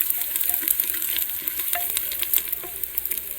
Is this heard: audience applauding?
no